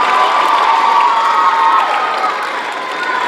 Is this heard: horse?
no